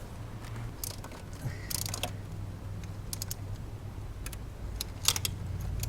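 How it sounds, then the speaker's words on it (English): Socket wrench ratcheting back and forth on a BMW X3 starter bolt, a run of light metallic clicks in short bursts over a steady low hum, close and fairly quiet. "So just go back and forth. I just put the socket on the wrench, one side then the other."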